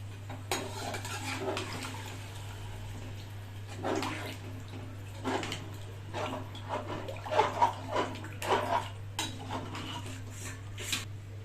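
Water is poured into basmati rice in a pot for prawn fry biryani, with intermittent splashing pours and light clinks of utensils over a low, steady hum.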